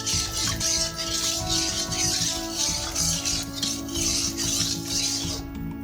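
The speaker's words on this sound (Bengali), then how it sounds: "আমরা এখন তেলটাকে খুন্তি দিয়ে কড়াই চারিদিকে বুলিয়ে নেব।" A metal spatula scrapes and rattles steadily around a hot wok coated in mustard oil, a close, continuous rasping with small clinks, with no talking.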